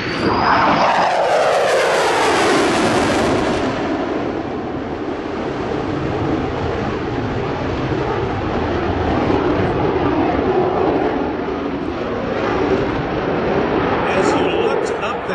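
An F-22 Raptor jet fighter roars past, its engine noise loud and sweeping down in pitch, then a sustained rumbling thunder lingering afterward.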